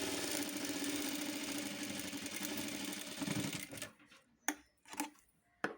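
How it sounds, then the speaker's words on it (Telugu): A sewing machine stitching two blouse front pieces together runs in a dense, steady mechanical whir for almost four seconds, then stops, leaving a few sharp isolated clicks and knocks. "రెండు ఫ్రంట్ పార్ట్లు ఒకేసారి స్టిచ్చింగ్ చేసేసుకోండి"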